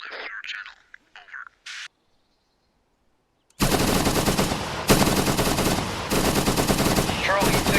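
Heavy automatic gunfire erupts during squad training, dense and loud with repeated bursts after a few seconds of radio chatter and quiet.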